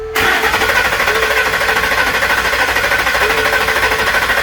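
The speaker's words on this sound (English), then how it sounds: "Alright, we got it to turn over." A Ford Coyote V8 swapped into a Lincoln Continental cranks over without firing, a loud continuous rhythmic starter churn holding steady from start to finish.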